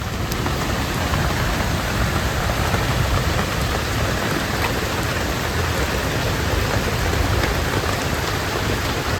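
Heavy rain pours down steadily outdoors during a biryani cook, a dense, continuous hiss of drops hitting surfaces that stays loud and even throughout.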